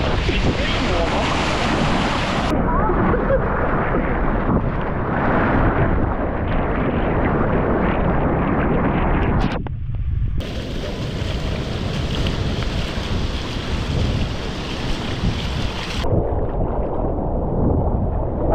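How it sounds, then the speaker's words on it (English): Out on the sea in the ocean, waves wash and wind buffets the microphone aboard a boat in a loud, continuous rush, with sharp shifts in level and a brief dip partway through. "on the sea, in the ocean"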